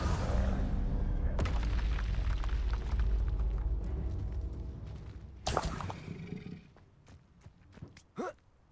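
An explosion from the Confringo spell in Hogwarts Legacy sounds as a sharp blast over a steady low rumble of game sound, followed by a quieter stretch with a few brief pops and whooshes.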